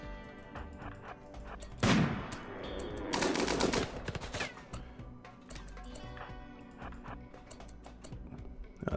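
Slug turrets firing in the RimWorld video game, a rapid run of sharp, clicky shots with louder dense bursts of gunfire partway through, then scattered single reports, fairly quiet overall with no talking.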